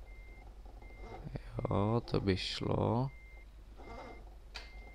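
Evenly spaced reversing beeps from a truck in Euro Truck Simulator 2, a steady high tone repeating about once a second, partly masked by someone speaking in the middle and a low engine hum throughout.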